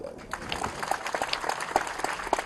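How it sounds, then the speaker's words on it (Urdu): Crowd applause at a foundation-stone ceremony for a 500 kV transmission project, honoring its engineers and workers, a dense rattle of many hands with distinct claps standing out, moderately loud amid crowd voices. "ان کے لیے زوردار تالیاں بجائیں"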